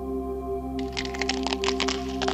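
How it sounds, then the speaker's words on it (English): A quick series of sharp cracking and crunching snaps over a steady low hum, irregular and fairly close. "That was the sound of my femur as they lifted me out of the vehicle."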